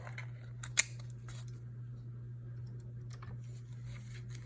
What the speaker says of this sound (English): Cut our thread off and take this off.